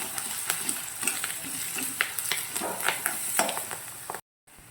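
Cinnamon and ginger-garlic paste stirred in a hot pan for rava kichadi, a close crackling sizzle with repeated spatula scrapes, cutting off abruptly at the end.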